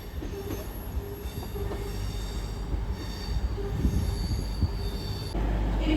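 At Newcastle station, diesel unit 158816 bound for Carlisle grinds along with loud, sustained wheel squeal over a steady rumble of rolling stock, near and continuous throughout.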